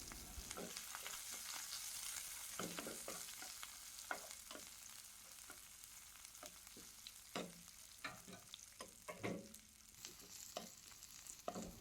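Chopped garlic and cut vegetables frying in hot oil, with a soft, fairly quiet sizzle and irregular bursts of stirring and scraping.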